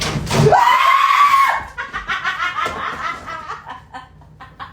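A person screams in a sustained rising shriek lasting about a second, followed by rhythmic snickering laughter that tapers off.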